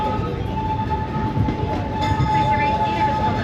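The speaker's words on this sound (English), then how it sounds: "we're pulling into Tomorrowland Station right now" Disneyland Railroad train rolling into Tomorrowland Station, a steady rumble of railcars with a sustained whistle-like tone running throughout, close and continuous.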